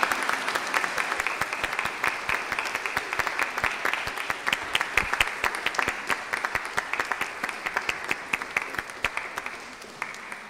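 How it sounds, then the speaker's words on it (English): Church congregation applauding the newly baptized at an Easter season service, with sustained, dense clapping from many hands that stays steady and fairly loud throughout. "let's clap first"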